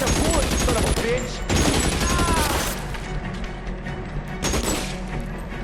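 Heavy gunfire from a shootout in L.A. Noire, with loud rapid bursts of automatic shots in two intense waves separated by a quieter rumbling stretch, close and dense throughout.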